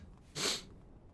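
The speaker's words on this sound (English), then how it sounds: "Think I'm gonna sneeze." A single short sneeze, a sharp hissy burst lasting under a second, fairly quiet against a faint background.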